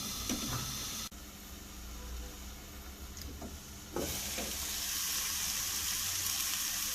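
Tomatoes and onions sautéing in a pan for an egg dish, giving a steady close sizzle and hiss that swells louder partway through, with a few faint clinks and no talking.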